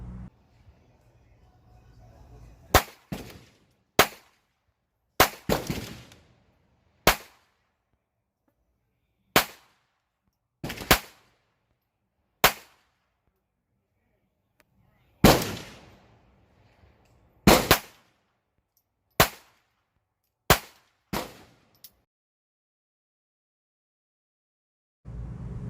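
A Phoenix Arms HP22A .22 pocket pistol fires about a dozen sharp, close shots at irregular intervals, each a short crack with a brief ring-off and near silence between.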